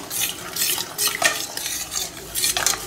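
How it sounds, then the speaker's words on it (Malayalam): A spoon stirs thick coconut milk in a pot for Palu Kurukku, a sweet milk reduction, scraping and swishing in close, steady repeated strokes with faint clinks against the metal, no voices over it. "നമുക്ക് നന്നായിട്ട് ഇളക്കി യോജിപ്പിക്കാം"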